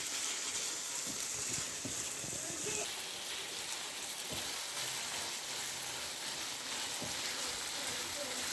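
Ground meat filling seasoned with salt, cumin and pepper frying in a pan for Hauran-style kibbeh, a steady close sizzle with occasional scraping stir strokes throughout.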